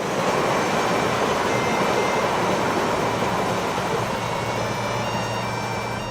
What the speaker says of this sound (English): apart from the trains, of course.